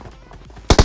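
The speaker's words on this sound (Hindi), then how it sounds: "तभी मुझे पीछे से गोलियां चलने की आवाज आती है।" Gunfire in the battle royale game BGMI: after a quiet stretch, a sudden close, loud burst of about three rapid shots erupts at the end.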